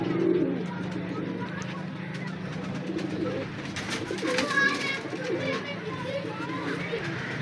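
Pigeons coo in a loft where fancy breeds are kept and shown off, the soft repeated coos running steadily under someone talking throughout.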